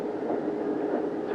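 A train runs steadily along the rails, a low continuous rumble with a faint rattle, close by and with no talking.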